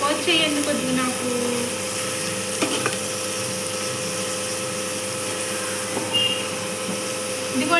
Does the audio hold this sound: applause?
no